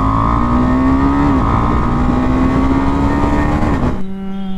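KTM Adventure 390 motorcycle exhaust at speed, a loud, close, sustained engine drone with a brief pitch dip from a quick-shifter gear change before the revs drop away.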